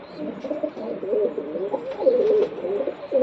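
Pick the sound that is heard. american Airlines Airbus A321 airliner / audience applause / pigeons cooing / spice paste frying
pigeons cooing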